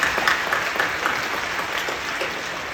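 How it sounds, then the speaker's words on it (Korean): A church congregation applauding at a New Year's Eve service, dense sustained clapping from many hands filling the hall, loud and even, with no speech over it. "박수를 가져주십시오"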